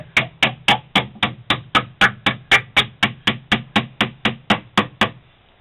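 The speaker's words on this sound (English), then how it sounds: "I have a little small hammer that I just tap them, kind of tap them lightly in there." A small hammer lightly taps on wood while assembling a large knockdown box, an even, quick rhythm of about twenty sharp knocks close up with brief decays between them.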